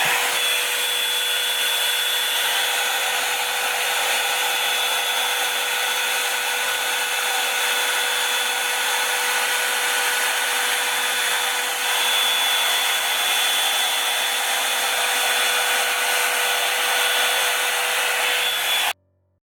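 A Revlon Salon One-Step hair dryer blows on cool, low and high settings with a steady, loud whooshing whine for a long stretch, its tone shifting slightly, then cuts off abruptly.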